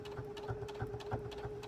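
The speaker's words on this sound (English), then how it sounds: "I'm just going to stitch down using a 1/8 inch seam allowance" A sewing machine stitches a quilt applique seam with an eighth-inch allowance, running slowly with a steady hum and a soft rhythmic clatter of about three stitches per second, close and quiet.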